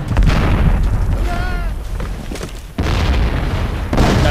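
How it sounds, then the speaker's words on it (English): Grenade blast in a team-based war video game: a loud, close boom with rumbling debris, followed by another heavy impact a little later, over constant battlefield noise. "That's a good nade."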